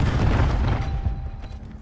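Cluster grenade blast in Call of Duty Black Ops, a loud rumbling boom with rolling multiple pops that decays over under two seconds, no talk.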